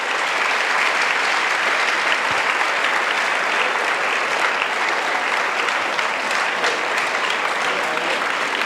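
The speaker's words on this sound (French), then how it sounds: "Clap much louder." A large audience applauds loudly at an evangelism and deliverance crusade in Douala: dense, continuous clapping that holds steady and close throughout, with no pauses.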